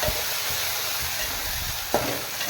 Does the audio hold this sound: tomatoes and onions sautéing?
yes